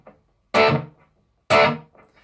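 Electric guitar power chord played cleanly, struck twice about a second apart, each a bright, slightly distorted chord ringing briefly before cutting off, with no voice.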